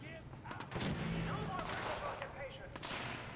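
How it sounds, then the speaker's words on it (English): Video game gunfire from raiders in Fallout 4 sounds off in several sharp bursts at moderate distance, with some overlapping game noise. "Oh god, we're getting shot."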